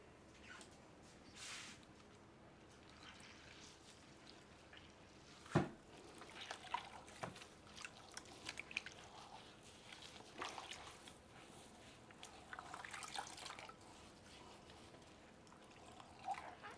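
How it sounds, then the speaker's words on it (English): Hands sloshing in a bucket of reclaim water at a pottery studio, faint soft splashes and drips with one sharper knock, quiet and intermittent. "I just like wash my hands with reclaim water."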